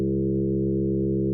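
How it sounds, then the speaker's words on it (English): An Omnisphere synthesizer plays a sine fundamental made richer by FM sidebands, a steady buzzy tone with stacked harmonics that is loud and even and heard alone without speech. "Here's the fundamental with FM sidebands."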